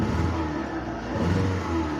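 A Seat Ibiza 6L with a 1.4 petrol engine running on three cylinders revs briefly, a close, rough mid-pitched drone with an uneven, stumbling note from the misfire.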